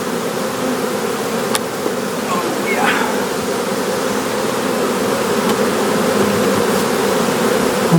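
Excited honey bees swarm around their hives in a dense, continuous buzz that stays loud and close throughout, with a few individual bees whining past.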